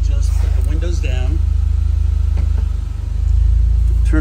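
The engine of a 2007 Saturn Sky Redline idles with a steady low rumble while a person talks over it nearby.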